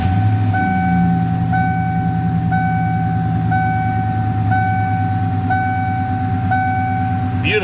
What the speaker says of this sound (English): Beautiful exhaust note.